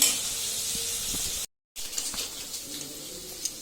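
Onions frying in oil in a kitchen, a continuous bright sizzle with small crackles and stirring, broken by a brief silent gap partway through, then resuming slightly quieter.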